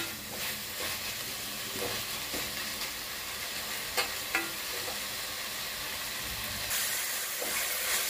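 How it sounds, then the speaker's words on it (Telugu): Tomatoes frying with coriander and mint in a pan for rice, a steady soft sizzle with occasional light clicks of stirring, heard alone and fairly quiet. "ఈ టమాటా అంతా బాగా మగ్గేదాకా మనం కాసేపు ఫ్రై చేసుకోవాలి"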